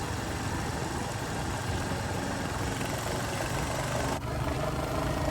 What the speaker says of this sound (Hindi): निकल चुका था मैं अपनी बाइक पर बिना किसी डेस्टिनेशन के